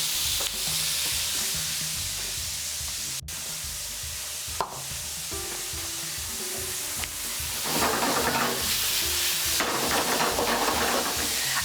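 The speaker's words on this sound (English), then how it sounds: "just fry off that halloumi, get a nice bit of colour on all the edges" Halloumi cheese fries in a pan, crisping at the edges, with a steady sizzle and hiss, occasional stirring clatter and sharp knocks, and a louder burst of spitting toward the end; no one talks.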